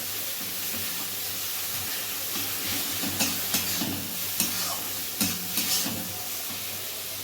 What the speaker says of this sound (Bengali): দেওয়া মশলাটা ভালো করে কষানো হবে